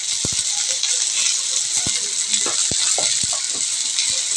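Bengali bata fish curry (macher jhol) simmering and sizzling in a pan, a steady bubbling hiss throughout with scattered sharp clicks, close and fairly loud, no voices.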